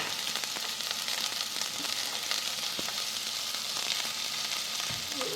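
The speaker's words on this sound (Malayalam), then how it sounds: "കട്ട് ചെയ്ത് വെച്ചിട്ട് ഉള്ളിനെ റോസ്റ്റ് ആക്കാം. എണ്ണ ചൂടായിട്ടുണ്ട്." Sliced onions with a pinch of salt sizzle and fry steadily in hot oil in a small pan, a dense, continuous crackling hiss with a few faint stirring scrapes and no voices.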